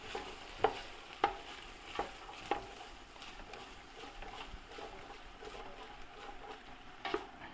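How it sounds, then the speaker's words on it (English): Chunky ratatouille vegetables and onions stirred in a pan: four quiet, evenly spaced spoon scrapes, then one more after a pause, over a low hiss. "So we'll just chuck this in and mix it through."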